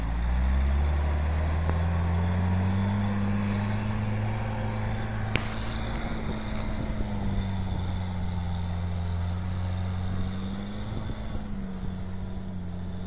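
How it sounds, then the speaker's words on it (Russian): A UAZ off-road vehicle engine drones steadily in Spin Tires while it struggles along a rough tank road, a loud continuous low rumble whose pitch rises and dips slightly with a single sharp click partway through. "УАЗик едет, называется."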